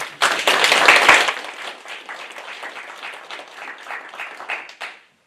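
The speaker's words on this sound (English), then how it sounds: "Let's give her a special round of applause." Applause breaks out from the audience at a school board meeting, loud and dense at first, then thinning into scattered claps that fade out over several seconds.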